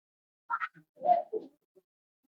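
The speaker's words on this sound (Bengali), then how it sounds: "এই যে সব নিচে গিয়ে এবার সব একে একে খেতে দিয়ে দেবো।" Pigeons with tied wings, kept up on a rooftop all day, give a few soft coos and short low calls while being put down to feed, close by and quiet with pauses between.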